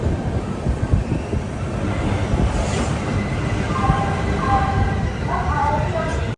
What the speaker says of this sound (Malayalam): ദുർഗ് റെയിൽവേ സ്റ്റേഷനിൽ നമ്മുടെ ട്രെയിൻ എത്തി.